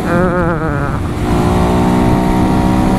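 A 125 cc motorcycle engine running steadily while being ridden, a loud continuous drone with rising and falling pitch as the revs change, wind rushing over it throughout.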